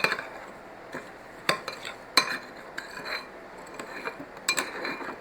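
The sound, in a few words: stirring butter and brown sugar in a casserole mixture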